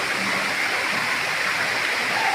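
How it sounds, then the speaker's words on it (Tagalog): Nalalata Falls in Bula, Camarines Sur roars as a steady, dense rush of falling water, loud and close, with no break. "Nalalata Falls."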